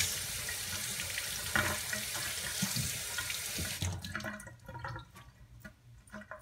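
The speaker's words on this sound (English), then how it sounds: "Wash my hands." Hands washed under a running kitchen faucet, a steady close rush of water into the sink for several seconds, then splashing and dripping as the flow thins and stops.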